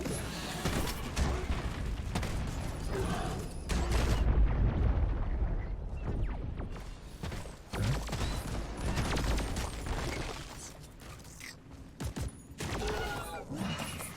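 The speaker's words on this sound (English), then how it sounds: "shooting thin containment field bullets, it feels good" Gunfire in Deep Rock Galactic, a dense, chaotic stream of shots and explosive bursts during a hectic cave fight, loud and nearly unbroken, with a couple of short lulls and a voice talking over parts of it.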